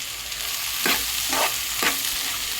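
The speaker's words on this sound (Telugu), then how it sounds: "కాకరకాయ ముక్కలు, ఆనియన్స్ ముక్కలు మరీ హైలో పెట్టకుండా మీడియం ఫ్లేమ్లో పెట్టుకొని వేయించుకోవాలి." Bitter gourd and onion pieces frying on a medium flame, a steady close sizzle broken by three scraping stir strokes.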